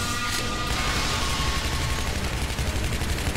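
Rapid gunfire from Shadow Warrior, a dense unbroken barrage of shots with crashing impacts filling the whole stretch, loud and close, no talk.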